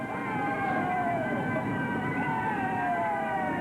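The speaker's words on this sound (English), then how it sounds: "After about 2 miles of listening to that siren" A fire engine siren wails steadily in a street parade, a continuous rising-and-falling tone over a dense crowd and street background, moderately loud throughout.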